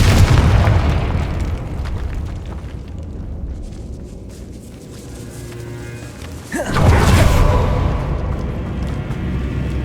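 A Confringo fire spell explodes in a catacomb in the Hogwarts Legacy video game. Low rumbling and crackling lead into a sudden, loud, booming blast about two-thirds of the way through, and a heavy roar trails after it.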